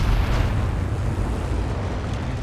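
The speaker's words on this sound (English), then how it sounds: "we've got a bombing raid going in" A bombing raid in a tank video game, heard as a steady, heavy rumble of explosions that rolls on without a break and has no voices over it.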